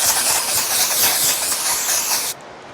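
A can of waterless sunscreen spray hisses in one steady, loud, close burst for about two seconds and then cuts off abruptly.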